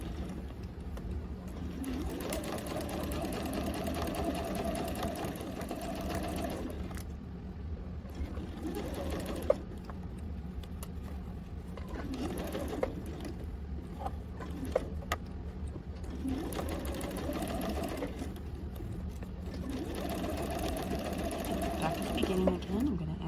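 A domestic sewing machine runs in steady bursts, stitching a fabric breast form around its curves, each whirring run stopping and restarting between pauses while a person talks throughout.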